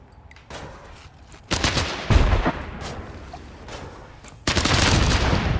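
A homemade gun fires in the pixel sandbox game Untitled Pixel Simulator, loud bursts of rapid crackling shots in several clusters, with a heavy blast near the end, close and with no talk.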